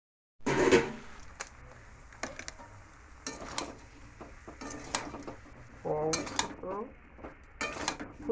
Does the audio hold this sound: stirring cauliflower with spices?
yes